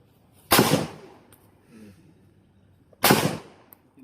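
Two sharp, loud gunshots roughly two and a half seconds apart ring out outdoors while an amulet is put to the test, each blast followed by a brief decaying echo, with faint quiet sounds in between.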